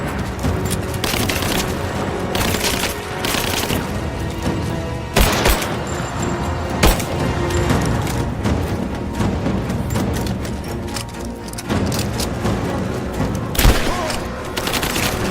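A rapid gunfight in Rise of the Tomb Raider, with dense overlapping shots and several louder close bangs cracking through continuous firing.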